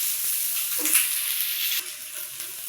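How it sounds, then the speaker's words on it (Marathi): Onion frying in a pan until it turns dark for a village-style Maharashtrian chicken sukka, a steady soft sizzle with brief scraping and stirring touches, no talking. "पूर्ण कांदा काळा होईपर्यंत भाजणार आहे मी."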